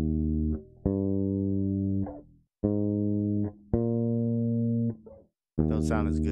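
Bass guitar plays higher notes of the bass line from a song, several sustained, clearly separated notes with short gaps, ending in a brief noisy pluck.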